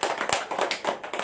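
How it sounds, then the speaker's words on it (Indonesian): Audience clapping for Pak Angga, a short patter of a few hands tapping together, close and fairly quiet, with no speech over it. "Tepuk tangan untuk Pak Angga."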